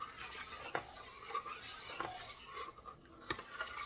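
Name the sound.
stirring Cajun soup in a pot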